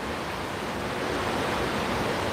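Water rushes along Waller Creek, an urban creek, as a steady, loud broadband wash with no breaks and no voices.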